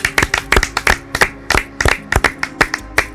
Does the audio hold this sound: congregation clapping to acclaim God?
yes